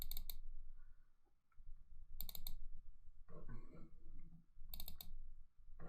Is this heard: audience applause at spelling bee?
no